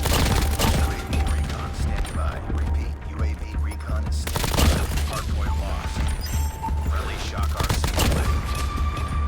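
Rapid gunfire from an attack in the mobile shooter game COD Mobile, with dense bursts of automatic fire and booming shots running nearly continuously and loudly, mixed with game effects and faint voices.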